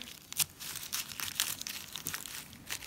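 Tape is pulled and pressed down around the base of a food sculpture, giving close, irregular crinkling and tearing crackles in short bursts with no speech.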